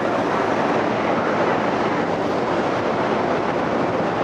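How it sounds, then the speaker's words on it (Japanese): A constant roaring rumble of a moving train in New York, loud and steady with broad noisy texture, no voices heard. "それではこの列車ですね、"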